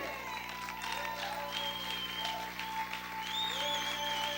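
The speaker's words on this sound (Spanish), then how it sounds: "Aplaude fuerte al Señor." Church congregation clapping at a Spanish-language worship service, a steady dense wash of applause with tonal hum and faint melodic sounds running underneath throughout.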